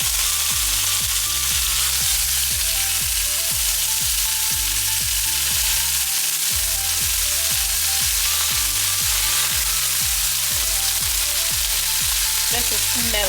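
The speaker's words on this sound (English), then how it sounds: "now I am about to start braising the oxtail" Oxtail pieces hit a hot pot one by one to begin braising, setting off a loud, steady sizzle with rhythmic low clunks and scrapes of meat and utensil against the pan.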